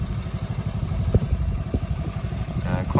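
A D-reg Honda Cub 50 motorcycle fitted with an upgraded 90cc engine runs close by, a steady low putter with a rapid, even pulse throughout.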